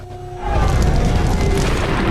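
A ship's ammunition explodes during the attack on Pearl Harbor, a sudden massive boom that swells into a sustained, loud, roaring rumble filling the whole clip.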